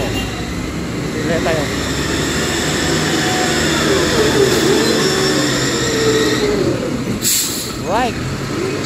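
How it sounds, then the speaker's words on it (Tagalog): A bulldozer works inside a factory where boxes are packed in sacks and pressed, its loud, heavy engine rumble and hiss filling the space while a person talks over it. "Ang lakas ng bulldozer."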